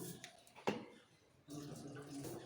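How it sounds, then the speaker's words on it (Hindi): Water poured into a pan of chopped bottle gourd and washed moong dal, a short splash followed by a steadier pour, close and moderately loud with no talk. "थोड़ा सा डाल दूँगी मैं इसमें पानी"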